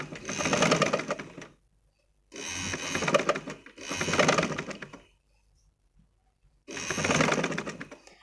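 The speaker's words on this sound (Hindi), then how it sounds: "एक से दो दफ़ा करने के बाद आपने इसकी सिलाई करनी है" A sewing machine stitches fabric while hemming a fold, running in four loud rapid bursts of a second or so each, separated by near-silent pauses.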